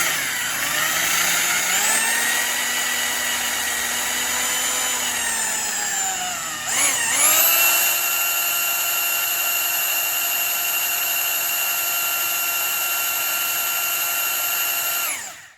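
A power drill spins the oil pump to prime a Ford 445 FE engine, a loud steady whine that holds for about fifteen seconds, dipping briefly in pitch midway before settling at a higher constant tone and cutting off at the end.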